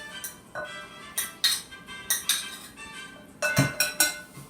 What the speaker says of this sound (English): now I'm going to put all my ingredients together. First, my nopales, add my tomatoes